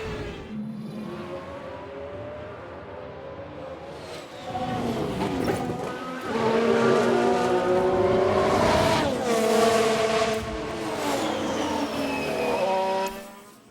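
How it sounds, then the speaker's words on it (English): A Ferrari Formula 1 race car in F1 Manager 22 screams past at high revs, engine pitch sweeping and wavering through braking and a tyre lockup, growing louder midway and then cutting away. "It's a lockup, and that could be costly."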